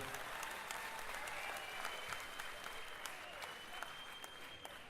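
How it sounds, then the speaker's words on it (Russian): Continuous applause from a concert audience at a solo music program, heard at low level as a dense wash of clapping with a few sharper claps standing out, steady throughout. "Мало аплодисментов, друзья. Погромче."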